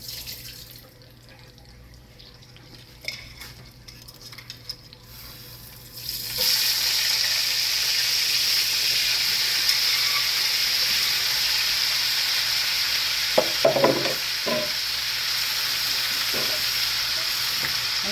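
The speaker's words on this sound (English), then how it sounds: "I'm gonna sear my shrimp right here in this same grease" Shrimp searing in leftover grease in a pan: quiet clatter at first, then a loud, steady, close sizzle bursts in and holds, with a few clinks of a utensil partway through and no talk.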